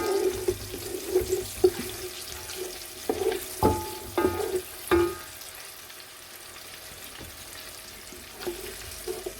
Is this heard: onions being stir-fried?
yes